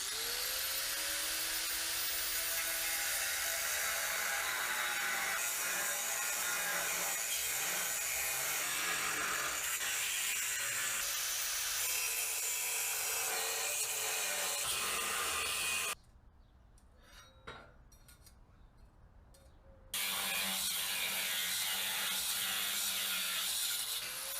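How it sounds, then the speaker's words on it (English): Steady high-pitched cutting noise as metal is cut from a crossmember for a 1969 Chevy C10, loud and continuous with a grinding edge, a brief pause near the end before the tool resumes. "we're going to go ahead and cut this off the bottom"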